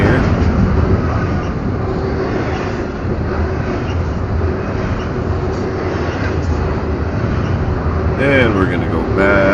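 Steady low rumble of a BNSF freight train rolling past, continuous and fairly loud, with a brief squeal of wheels near the end.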